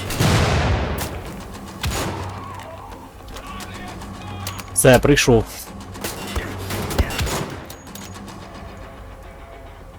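Gunfire from a sniper rifle in the first-person shooter Wolfenstein: The Old Blood, with a burst of sharp shots near the middle over a steady game soundscape while someone talks throughout.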